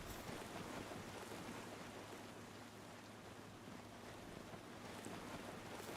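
Steady water ambience in Palworld, a constant soft wash like surf and wind, faint and unbroken, with no talking.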